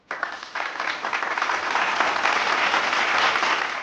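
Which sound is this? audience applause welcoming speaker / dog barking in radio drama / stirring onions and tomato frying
audience applause welcoming speaker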